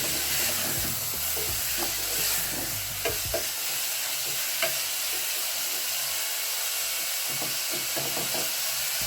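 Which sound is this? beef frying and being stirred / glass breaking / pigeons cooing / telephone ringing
beef frying and being stirred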